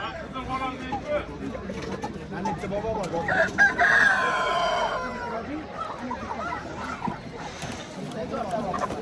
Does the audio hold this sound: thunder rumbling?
no